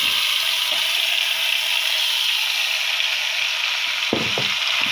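Chicken feet skin sizzles and fries steadily in hot oil with browned onions, a continuous loud hiss throughout with a few faint stirring knocks near the end.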